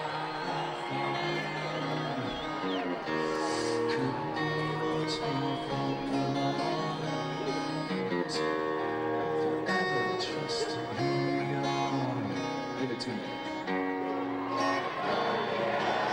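A concert crowd at the 1997 Bridge School Benefit cheers and whoops continuously, a dense sustained roar of many voices with scattered shouts, steady and loud throughout.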